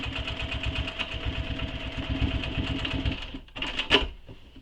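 A sewing machine runs steadily at close range, stitching through a shoulder bag's strap anchor, its rapid needle rhythm holding for about three seconds before stopping, followed by a few short handling clicks.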